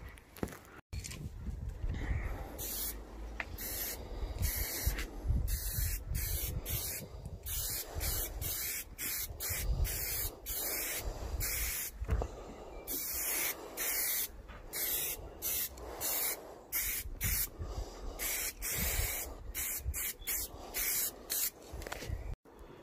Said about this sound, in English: It's now ready for spraying black.